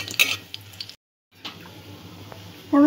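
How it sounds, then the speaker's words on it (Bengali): A spoon stirs a tempering of dried chillies, cardamom, cinnamon and cloves frying in oil in a pan, giving soft scrapes and light sizzling. A short gap of silence falls in the middle, then a brief louder clatter at the end. "ফোড়নটা একটু নাড়াচাড়া করে নেব।"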